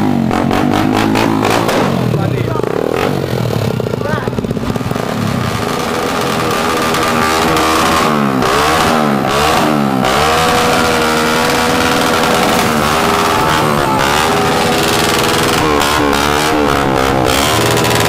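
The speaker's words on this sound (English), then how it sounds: "You want to click the throttle?" A motorcycle engine on a street in Tondo, Manila, loud and close, its throttle blipped and revved in repeated bursts that rise and fall over a steady idle.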